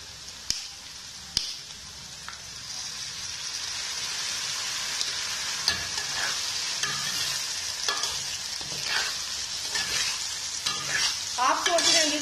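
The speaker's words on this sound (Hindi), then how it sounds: "तो ये सिरका हमने इसके अंदर मिक्स कर लिया" A spoon stirs a dish frying in a pan after a spoonful of white vinegar goes in, giving a steady close sizzle with a few sharp clinks and scraping strokes toward the end, with no voices.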